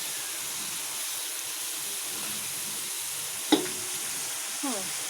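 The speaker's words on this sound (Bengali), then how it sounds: "মশলাটা আস্তে আস্তে করে খুব ভালো করে কষাবো" Spice masala for a quail curry is stir-fried in a pan, giving a steady close sizzle with a couple of brief spoon scrapes against the pan.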